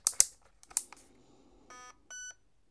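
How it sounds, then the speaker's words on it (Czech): A HAL ETU electronic device in settings mode: a few sharp button clicks, then two short, clear electronic beeps in quick succession, close and isolated with no talking. "Jsme v nastavovacím módu a máme jedno pípnutí."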